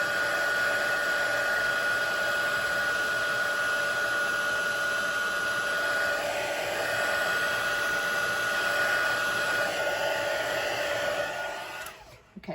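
Heat tool melting embossing powder on a Stampin' Up! card, a loud steady blowing whine held for about twelve seconds before cutting off.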